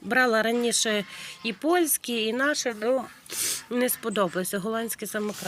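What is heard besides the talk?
No everyday noises stand out.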